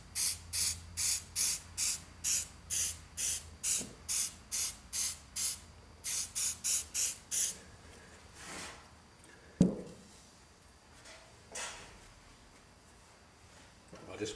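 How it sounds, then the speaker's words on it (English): A can of spray adhesive hisses in a quick run of short, even bursts, about a dozen close together, then stops; a few scattered clunks and rustles follow. "now I'm going to use the spray adhesive"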